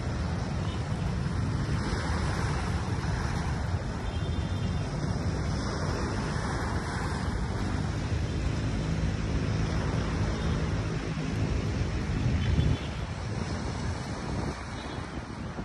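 Sea waves at Manila Bay beach after a passing ship, a steady rushing wash of water mixed with gusty wind noise on the microphone, continuous and fairly loud.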